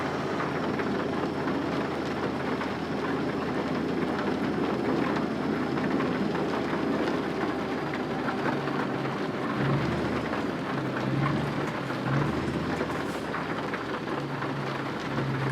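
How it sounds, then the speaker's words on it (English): Heavy rain pours steadily outdoors with thunder rumbling low beneath the constant hiss, with no talking. "Standing outside in the rain."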